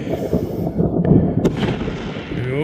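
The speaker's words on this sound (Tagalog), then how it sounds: "hindi naman gaanong madaming paputok" Fireworks explode during a New Year's celebration held by Filipinos in the Czech Republic, with several close, loud booms and crackling bursts in quick succession.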